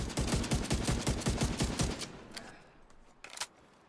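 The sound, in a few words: gunfire in a video game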